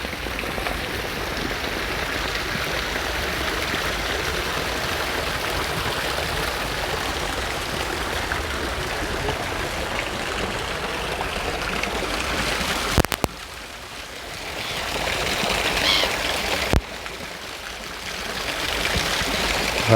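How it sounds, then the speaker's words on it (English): Water pours steadily from a vase-shaped central fountain into a long ornamental lake in a London park, a continuous close rushing splash that dips briefly midway and then resumes. "looking at the water as it pours out of the vase into the long water there"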